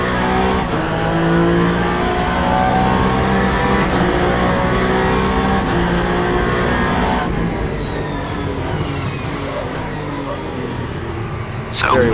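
Race car lapping the Bahrain circuit in the Le Mans Ultimate video game, its engine droning loud and close through gear changes, with brief tire squeal and a sharp burst near the end, under someone talking.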